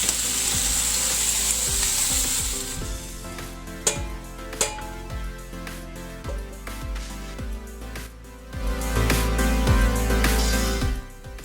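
Ham and pineapple are stirred into rice in a hot, sizzling pan, with a steady frying hiss and repeated scraping and clinking of the utensil against the pan.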